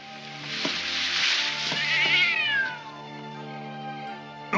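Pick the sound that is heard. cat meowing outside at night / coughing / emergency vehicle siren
cat meowing outside at night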